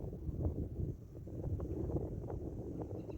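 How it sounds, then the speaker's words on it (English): Gusty wind at an outdoor shooting range rumbles steadily and fairly loud against the microphone throughout, with no voices. "You guys can hear that wind"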